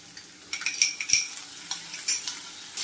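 Tomatoes sauté in green masala for a Malvani clam sukka, a spatula scraping and stirring the pan in a few quick strokes over a soft sizzle.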